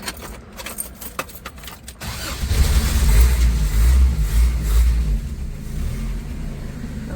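Keys jangle and a starter clicks, then a 1984 Toyota 4Runner's engine catches with a low rumbling surge and settles into a steady, smooth idle, heard up close and alone.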